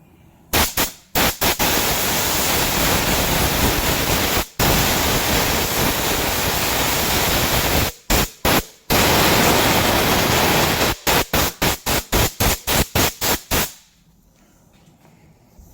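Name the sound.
dry sanding a Chevy Impala car body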